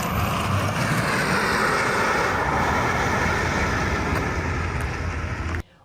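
Tesla Cybertruck pulling away from a stop, with steady road and drivetrain noise heard from inside the cabin for several seconds before an abrupt cutoff.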